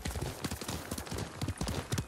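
Horse hooves galloping in the video game Ghost of Tsushima, rapid rhythmic thudding beats in quick repeating groups, close and fairly loud with no voices.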